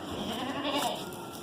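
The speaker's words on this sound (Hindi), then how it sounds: "बकरी बकरी लेके हाजिर हुए हैं" Goats bleat at a busy livestock market in Karachi, a wavering cry rising over a steady, noisy crowd hum, moderately close.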